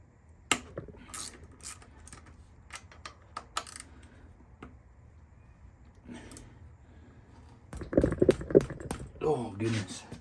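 Wrench work loosening tight front brake caliper bolts on a Yamaha YZ250F dirt bike: sparse metallic clicks and ticks early, then a louder cluster of clanks and ratcheting near the end, with speech present.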